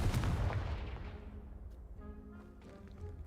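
A Confringo fire spell from a video game detonates at the start as a loud, close blast, and a rumbling roar decays over about two seconds into a quieter tail of low tones.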